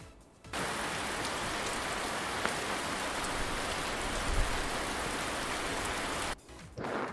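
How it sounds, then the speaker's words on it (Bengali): Steady rain pours down as a constant loud hiss, falling continuously for several seconds before briefly easing near the end. "ছাতা মাথায় বৃষ্টি পড়ে।"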